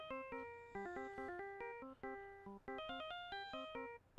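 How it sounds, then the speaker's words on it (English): The Steel Samurai phone alarm ringtone from the Phoenix Wright Ace Attorney video game plays a quick, bright electronic melody of short stepped notes. It repeats in phrases and sounds fairly faint, with no talking over it. "Steel Samurai phone alarm."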